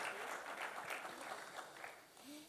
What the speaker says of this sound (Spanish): Démosle un aplauso, gracias por ayudarnos aquí.